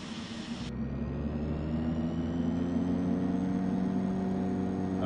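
The right engine of a DHC-6-300 Twin Otter turboprop in the flight simulator FSX spins up: a starter whine gives way to a steady, rising turbine drone with layered harmonic tones, holding loud and even.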